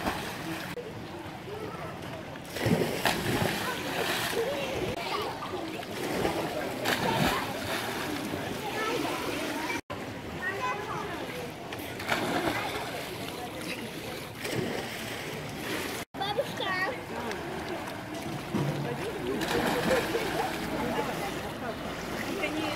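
Splashing and water churning in a hotel pool in Croatia during a swim, irregular and fairly close, mixed with wind buffeting and bursts of people talking.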